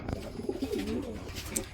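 Close racing pigeons cooing, a soft throaty warble rolling low and repeated, with some background rustle.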